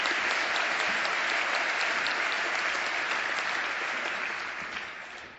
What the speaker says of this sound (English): A big round of applause for Don Watson.